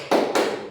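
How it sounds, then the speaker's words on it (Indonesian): A classroom group claps together in a rhythmic spirit clap, two sharp, dense bursts of many hands about a quarter second apart, loud and close. "Tepuk semangat."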